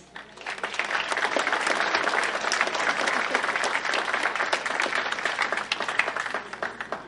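Sustained applause from a crowded audience at a university award ceremony, loud dense clapping that swells in within the first second and holds steady throughout.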